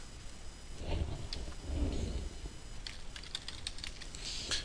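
Someone types quick bursts of nonsense on a computer keyboard, irregular key clicks close and clear, with a faint low rumble in the background.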